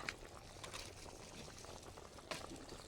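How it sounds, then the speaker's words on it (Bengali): Cauliflower curry simmering in a pot on a wood-fired clay stove, a faint steady bubbling hiss with a couple of brief sharper pops, no voices. "ফুলকপির ঝোল হব হব হয়ে গেছে।"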